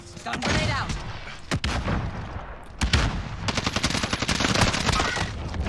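M16 rifle fire in Call of Duty: Warzone: loud, close bursts of rapid automatic gunfire with sharp individual cracks and rolling echoes, broken by brief pauses and a heavier boom, with a voice talking underneath.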